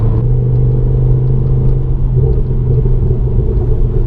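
A Ford Focus RS Mk2 engine rumbles steadily at low pitch, a deep exhaust drone with faint crackles on top, close by and continuous with no talking.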